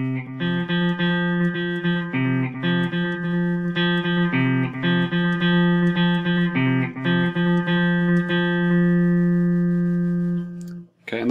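An electric guitar plays a riff through an echo effect, with clean melodic notes repeating in a lilting rhythm and trailing repeats, loud and alone before a final thump.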